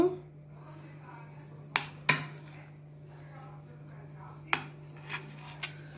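A knife cuts a set egg mixture into pieces on a plate, giving a few sharp clinks of metal on the plate spread over a low steady background hum.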